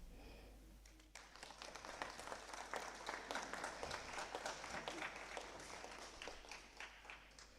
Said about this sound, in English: You can applaud them.